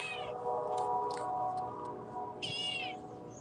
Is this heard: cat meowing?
yes